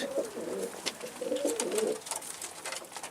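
Soft cooing of doves or pigeons repeats in low, rounded phrases, with faint scattered chirps over a light outdoor background.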